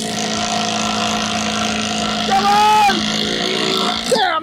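Two cordless drivers, an 18-volt Makita and a Javin, race to sink screws, their motors whirring steadily and loudly for several seconds, rising in pitch near the end as a voice shouts over them.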